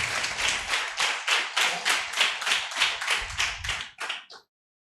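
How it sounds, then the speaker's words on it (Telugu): A church congregation at a Sunday worship service claps hands together in a steady rhythmic beat, about a dozen loud crisp claps in even succession before stopping abruptly. "చప్పట్లు కొట్టి దేవుని నామముని మహిమపరచు"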